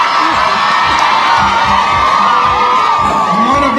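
A church congregation cheers and shouts in a dense, continuous roar of voices with whoops rising above it, loud and sustained throughout.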